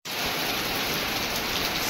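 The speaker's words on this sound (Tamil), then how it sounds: "சரியான மழை நண்பா இன்னைக்கு." Heavy rain pours steadily in a rural hill area near a parked bike, a dense, even hiss of drops starting abruptly and holding loud and constant throughout.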